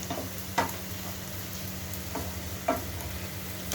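An egg garlic fry is stirred in a pan, a continuous sizzle broken by two distinct scraping strokes of a utensil against the pan, with no talk over it.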